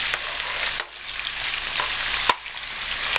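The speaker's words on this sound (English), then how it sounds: "while the steak is cooking" Steak browning in a pan for beef stroganoff, a steady close sizzle and crackle with a couple of sharp pops and one brief dip partway through.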